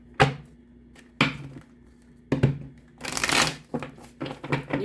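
Tarot cards are shuffled by hand in several separate bursts, each a crisp riffling flutter, close and fairly quiet with brief pauses between.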